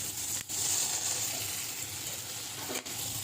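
Laing cooking in a pan, with a steady close sizzle and a couple of brief scraping stirs breaking the hiss.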